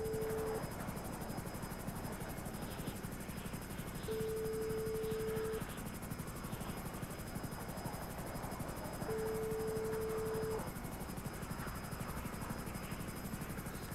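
Helicopter in a GTA roleplay game, a steady loud rotor drone running continuously throughout, with faint speech at moments underneath.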